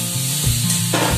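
Fish curry ingredients with onion and cut rohu pieces sizzle loudly and steadily in a pan, with stirring scrapes shifting the tone partway through.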